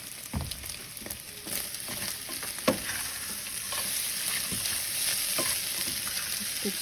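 Eggs stirred and frying in a pan for chilaquiles, with a steady sizzle and the repeated scrape and tap of a utensil against the pan, close and continuous throughout.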